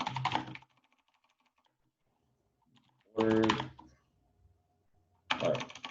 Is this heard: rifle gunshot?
no